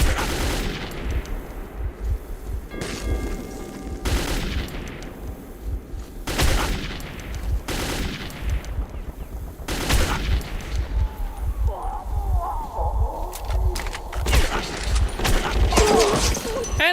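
Gunfire and combat in Metro 2033, with repeated sharp gunshot bursts and heavy booms spaced every couple of seconds, loud and punchy, followed by a denser stretch of shooting with a voice speaking under it.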